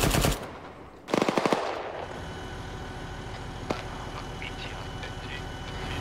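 Gunfire in a military combat video game: a loud close burst of rapid automatic fire, a short gap, then another rattling burst, followed by engine rumble and a single distant shot.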